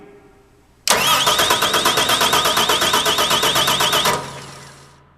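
Car engine cranking on the starter during a voltage drop test, a loud, rapid, even chugging that runs for about three seconds without catching, then stops and fades into a low hum.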